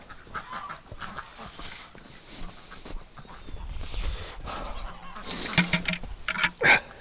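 Wet ducks in a winter pen give scattered honking, quacking calls, a few louder squawks near the end over a steady background of rustling and movement, fairly faint and close by, with no talking.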